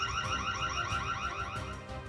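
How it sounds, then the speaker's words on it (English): A car alarm blaring outside a house during an attempted break-in, a steady loud electronic wail cycling with a rapid warbling rhythm, continuous and close throughout with no talking. "suddenly the car's alarm blares to life"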